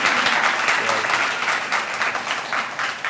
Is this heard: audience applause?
yes